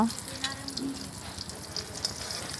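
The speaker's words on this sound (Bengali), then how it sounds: "ছোলা কচু ভেজে নেব এই যে তেল দিয়ে দিয়েছি এখন দিয়ে দিচ্ছি কড়াইতে ভাজার জন্য" Turmeric- and salt-coated taro stems fry in oil in a wok with a continuous crackling sizzle, fairly close and steady.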